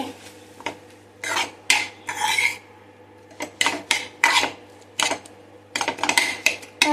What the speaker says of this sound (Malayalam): നല്ലപോലെ ഒന്ന് വെന്ത് വരുന്നവരെ നമുക്ക് ഇതുപോലെ ഒന്ന് ഇളക്കി കൊടുക്കാം